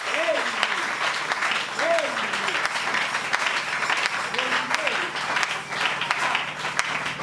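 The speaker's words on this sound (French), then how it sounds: "Est-ce qu'on peut l'acclamer très fort?" Church congregation applauding and cheering loudly and steadily throughout, with a voice singing or calling out over the clapping at intervals.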